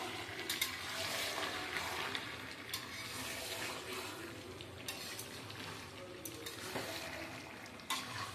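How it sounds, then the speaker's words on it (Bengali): Meat sautéing with spices in a hot pan gives a continuous close sizzle broken by scraping stirs, with no talking. "এই দেখো মাংসটা কষা হচ্ছে, মশলা কষে নিচ্ছি।"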